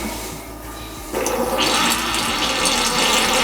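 A foot-pedal toilet in a Newmar Freedom Aire 2515 RV flushes, with a sudden loud rush of water that follows a low hum and keeps gushing steadily up close.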